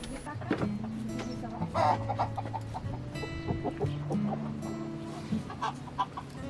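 Several chickens cluck and chatter close by in a vegetable garden, with overlapping short calls scattered continuously throughout and no talk.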